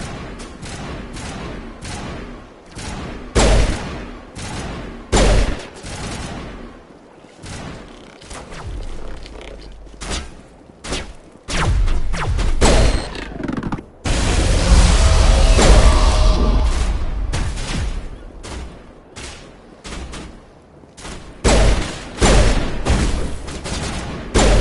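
Gunfire crossfire in the video game Mass Effect: dense, continuous bursts of rapid shots and booming impacts overlapping throughout, with a loud sustained barrage in the middle and scattered thuds, no talking.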